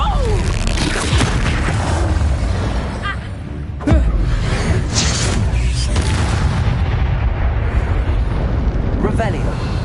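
Blasting spells explode one after another in Hogwarts Legacy, dense loud booms and crackling bursts that run almost continuously, with a brief dip before a sharp fresh blast, mixed with game effects and voices.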